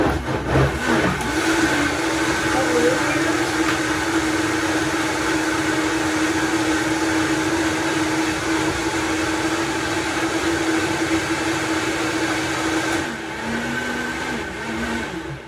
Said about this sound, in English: My favorite machine, the Vitamix.